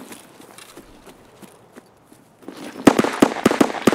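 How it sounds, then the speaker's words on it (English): Gunfire in Escape From Tarkov breaks out as a rapid burst of sharp, loud shots near a wall and blue container, after a quieter stretch of faint scattered ticks and steps. "I'm shooting through the wall."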